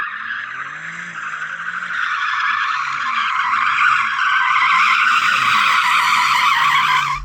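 BMW M2 launching hard in a drag race against an Audi RS3, AMG A45, Porsche Cayman GTS and VW Golf R, its tyres squealing loudly and continuously with engine roar underneath, sustained for several seconds.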